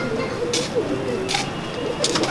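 A male pigeon held by a pigeon fancier gives soft, low cooing. The calls are faint and blend into a steady, noisy background.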